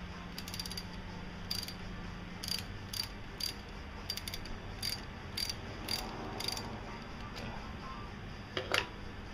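A ratchet wrench cranks spark plugs out of a 2001 Dodge Neon engine, giving short bursts of quick clicking at irregular intervals over a quiet garage hum.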